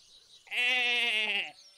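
A person imitates a goat, giving one loud, drawn-out bleating cry that lasts about a second against a quiet background.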